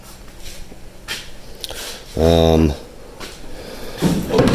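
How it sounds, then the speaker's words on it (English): The door of a 1956 Ford F100 truck is pushed shut without latching, making one solid metallic thud with a short ringing tail, set between quieter handling noises and faint talk. "that's just the door pushed closed"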